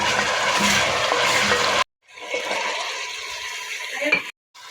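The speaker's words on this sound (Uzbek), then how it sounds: "Menja unaqa qip-qizil qovurib yubormayman go'shtni." Meat fries in a pan with tomato added, a steady dense sizzle with stirring scrapes, broken by a sudden silence near two seconds and another brief dropout near the end, close and loud with no talk.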